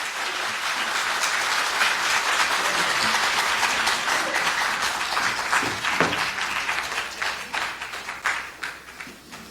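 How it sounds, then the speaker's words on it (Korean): An audience at a film preview event gives big applause to welcome a speaker, a full, sustained crowd clapping that thins out toward the end into scattered individual claps. "여러분의 큰 박수로 맞으시면 대단히 감사하겠습니다."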